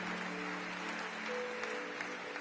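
A church congregation applauding the Lord during a French-language worship service, a steady dense wash of clapping held throughout, with sustained organ or keyboard tones underneath.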